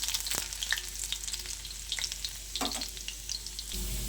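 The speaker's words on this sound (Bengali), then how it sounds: "রসুন কুচিটা একটু লাল লাল করে ভেজে নেব" Chopped garlic frying in hot oil, a close crackling sizzle with occasional stirring clicks and scrapes, steady over a few seconds.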